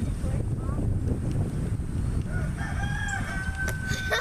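A rooster crows outdoors on a ranch over rumbling wind noise, its call rising and stretching out toward the end, somewhat distant.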